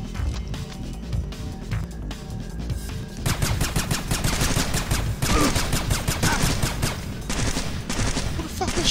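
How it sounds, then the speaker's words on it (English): Sustained video game gunfire in Splinter Cell in a dark level, with dense rapid shots that intensify midway into continuous automatic bursts, loud and close, with no talking. "Who the fuck is shooting me?"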